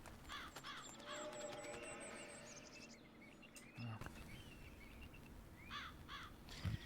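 Birds calling in the WildRP game world, a mix of repeated chirps and short whistled phrases over a soft outdoor ambience with crow-like caws, moderately near and fairly quiet.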